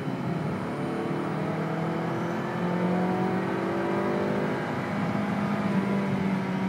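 Engine of a 2010 Mazda 3 running steadily from inside the car, pitch climbing and dropping as the automatic gearbox in manual mode shifts gears, with a continuous low drone throughout.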